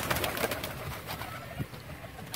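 Pigeons for sale, kept together in a loft, coo in low, soft murmurs amid rustling and fluttering noise, with scattered brief calls close by.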